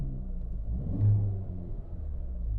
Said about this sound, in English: signature awesome deep throaty exhaust sound